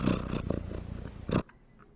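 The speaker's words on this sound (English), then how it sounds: "it is a cat purring" A cat purrs close and loud in rhythmic rumbling pulses, then stops abruptly near the end, leaving quiet.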